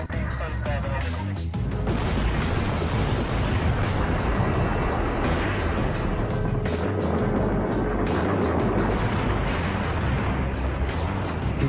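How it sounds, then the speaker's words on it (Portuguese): A huge, sustained roar of dynamite blasting at the Itaipu dam construction site, dense broadband rumble and crackle continuing for several seconds, loud and close, with scattered booming bursts. "A explosão lembrou fogos de artifício."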